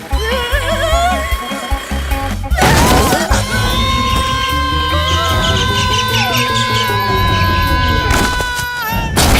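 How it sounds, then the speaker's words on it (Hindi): A watermelon bursts on a road in a Hindi film scene, giving one sharp smashing crash in the middle, set against a steady music bed with voices around it. "भगवान, तरबूज फूट गया।"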